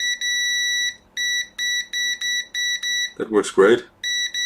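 Steady electronic beeps at about 4 kHz from a multimeter continuity test repeat in short bursts, briefly interrupted by someone speaking, then the tone resumes.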